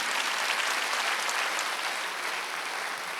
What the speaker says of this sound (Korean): 박수하도록 하시기 바랍니다